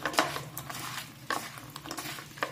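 Carrot and bean pickle being stirred in a bowl with freshly squeezed lemon, giving soft wet scraping and clinking of a spoon in repeated strokes, close and fairly quiet with no talk.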